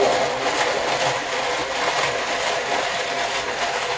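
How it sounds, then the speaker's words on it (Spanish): A blender whirring through Alfredo sauce made with cold milk for shrimp penne, a steady close grinding motor hum holding constant for several seconds, with no talk over it. "Ahora va la parte de batir."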